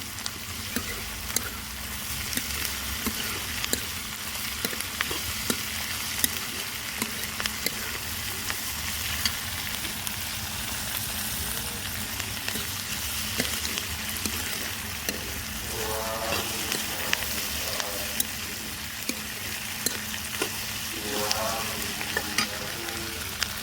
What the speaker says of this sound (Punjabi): ਹੁਣ ਅਸੀਂ ਇਸ ਵਿੱਚ ਕੱਟੇ ਹੋਏ ਟਮਾਟਰ ਹਰੀ ਮਿਰਚ ਇਹਨਾਂ ਨੂੰ ਵੀ ਵਿੱਚ ਭੁੰਨ ਲਾਂਗੇ